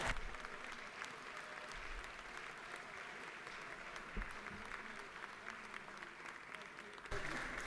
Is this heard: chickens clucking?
no